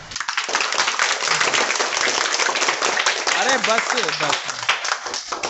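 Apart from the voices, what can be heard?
students clapping in classroom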